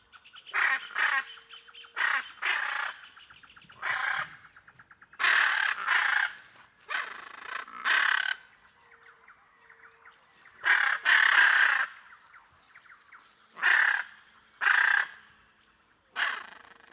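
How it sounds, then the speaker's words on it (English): Loud, harsh squawking calls from a blue macaw, the largest parrot, in the Amazon, repeated in short bursts over a steady high insect drone. "This is the biggest parrot in the winged kingdom, the blue arara."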